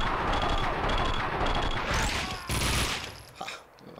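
Dense burst of gunfire in the Max Payne 2 shooter game, a rapid volley of loud shots followed by a crash and a sharp final shot, with a faint game voice underneath.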